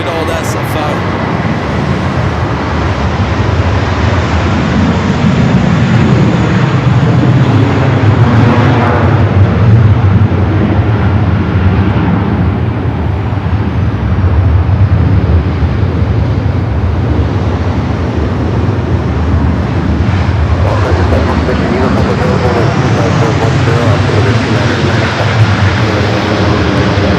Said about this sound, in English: Let's go to our next arrival, the Delta 737-800, coming in from good old SFO.